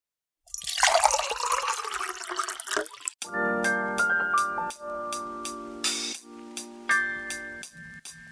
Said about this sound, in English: Pour the coffee.